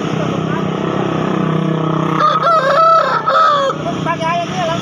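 Bangkok fighting-breed chickens at a busy market in Makassar, with a rooster giving loud crowing calls and clucks close by over constant crowd noise and passing traffic. People talk in the background.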